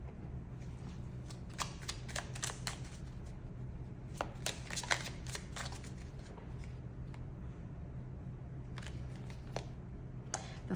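Tarot cards are shuffled in bursts of crisp riffling and flicking clicks, close and fairly quiet, with a pause midway before a few more card snaps near the end.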